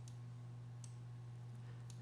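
Computer mouse clicks while adding gradient points in editing software, a few faint, sharp single clicks spaced irregularly over a steady low electrical hum.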